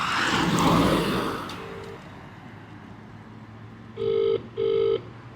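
Rustling noise fades out, then two long buzzing ringback tones sound in sequence, steady and clear, with no one speaking.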